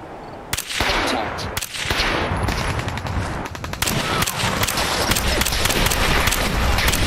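Gunners firing in Fallout 4 VR, a video game: sustained bursts of automatic gunfire crackle loud and close, with rapid rattling volleys and sharp individual shots packed together for several seconds.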